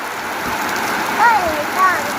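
Steady rain falls outdoors during a day of fishing in high water, making an even close hiss throughout, with two brief whistling chirps rising above it.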